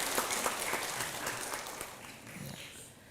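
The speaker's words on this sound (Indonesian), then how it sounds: "Beri tepuk tangan untuk TVRI Sulawesi Tenggara." Audience applause at a campus event, a steady wash of clapping from a crowd that gradually fades toward the end, with no talk over it.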